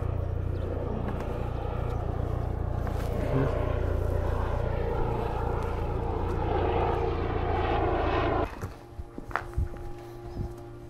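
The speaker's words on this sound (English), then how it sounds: "Police helicopter." A loud, steady police helicopter drone holds for about eight seconds as it flies overhead, then suddenly drops away, leaving scattered quieter noises.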